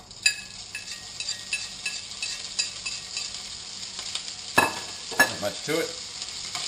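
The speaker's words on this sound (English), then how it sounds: "So, just going to put that into the fry pan." Eggs frying with ham and salami in a pan, a steady close sizzle with occasional stirring scrapes and clinks, while someone speaks briefly over it.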